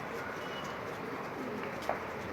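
Homing pigeons in a breeder's loft give soft, low coos against a steady hum of background noise, with one brief brighter sound near the end.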